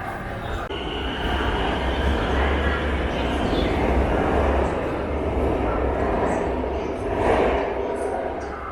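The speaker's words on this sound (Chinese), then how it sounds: "现在我在北京地铁4号线里面" A Beijing Subway Line 4 train carriage in motion gives off a steady, loud low rumble and broadband rolling noise throughout, with a faint murmur of voices in the background.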